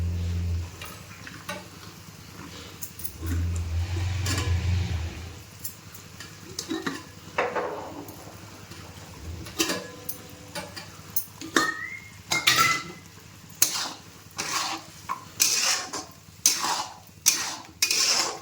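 Peas get stirred into masala roasting in a pan for a potato, pea and egg curry, with a low sizzle early on, then a run of repeated scraping strokes and clinks of a spoon against the pan.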